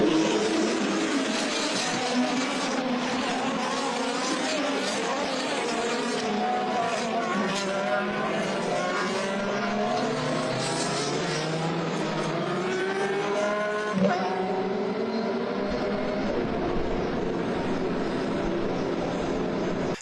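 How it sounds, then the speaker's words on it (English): Race cars roar around a track in a continuous, loud engine drone that shifts in pitch as they pass, with a sharp change near the end. "Watch the race cars."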